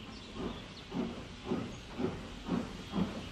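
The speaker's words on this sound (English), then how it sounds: "Without another word, Richard puffed sadly away to the sheds." A steam engine in an animated train story puffs steadily away, six evenly spaced hissing chuffs about half a second apart over a constant background hiss, moderately close with no voices.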